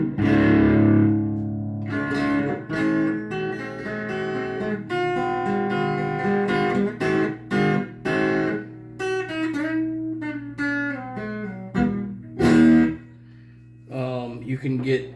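Electric guitar played through a cranked Aircastle 79A tube amp built into an old Admiral radio, with distorted, sustained chords and single notes ringing in a mellow tone, loud and continuous with short gaps between phrases.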